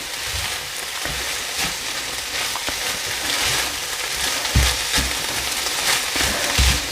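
A potato and minced meat keema cutlet mixture being stirred in a pan, a loud, dense sizzle close up with soft thumping stirs and scrapes recurring every second or so.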